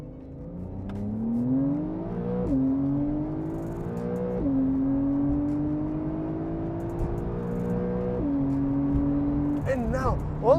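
A Porsche Carrera 4 992 and a BMW M4 F82 accelerate hard from a standstill on a German autobahn, engine notes climbing steadily through several gear shifts, heard from inside the car with someone talking over it.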